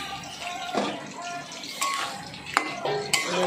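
A spoon scrapes and stirs papaya, banana stem and prawn curry with ghee in a pan, giving soft irregular scraping and occasional sharp clinks against the metal, close and alone.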